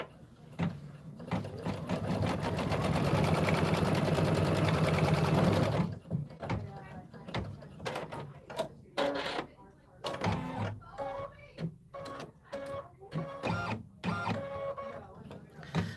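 A Solaris sewing machine stitches quilt pieces in a steady close whirring run that stops after about six seconds, followed by short clicks and handling noises while someone talks.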